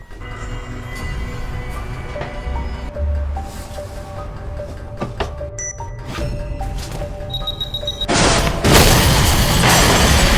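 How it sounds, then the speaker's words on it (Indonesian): A bomb going off inside a house in a crime drama, a sudden loud, deep blast near the end that follows a stretch of tense background music and effects. "tiba-tiba sebuah bom meledak di rumah itu"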